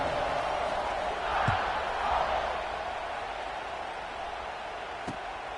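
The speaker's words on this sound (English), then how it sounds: "this crowd is buzzing after that last score" Stadium crowd noise in the College Football 26 video game, a steady broad murmur and roar that swells slightly mid-clip after an extra-point kick, with a couple of faint thumps, under no speech.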